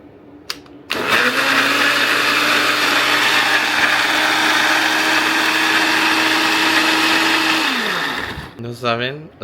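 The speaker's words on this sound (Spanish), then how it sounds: "A ver cuánto nos dura esta licuadora." A blender whirs loudly and steadily for several seconds after a click, then winds down and stops, leaving brief rattling at the end.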